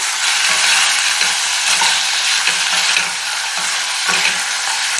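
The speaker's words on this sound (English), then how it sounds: "Stir evenly." Beef and rice stirred in a hot pan, a steady bright sizzle with repeated scraping strokes of the spoon, close and loud, no talking.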